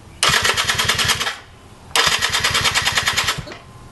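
A Yamaha Alfa motorcycle engine is cranked twice on its converted electric starter, each burst a loud, close, rapid chugging rattle lasting about a second and a half, with a short pause between the two.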